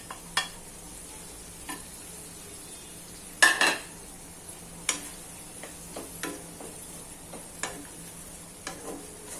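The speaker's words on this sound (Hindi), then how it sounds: "ये पोटैटोज डाल देती हूँ मैं इसमें और बीन्स कैप्सिकम डाल रही हूँ।" Potatoes, beans and capsicum tumble into a pan and get stirred, with scattered scrapes and clinks of a utensil against metal over a faint steady sizzle, one louder clatter early on.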